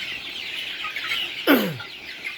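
Chickens in a morning coop: one loud, close cluck sweeps sharply downward midway, set against a low continuous bed of distant clucking and bird chatter.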